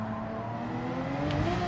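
A race car engine in Gran Turismo 7 drones steadily with a deep, bassy tone, holding a sustained hum that rises slightly in pitch, with no voices.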